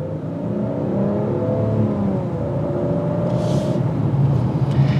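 A 2022 Maserati Quattroporte luxury GT sedan accelerating with its exhaust in normal mode, a steady engine drone rising smoothly in pitch through the gears, loud and continuous with no talking.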